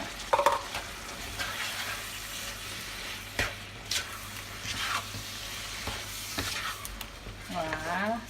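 Sugar cooks into caramel in a pan for caramel pork, a continuous sizzle broken by repeated scraping stirs, close and moderately loud.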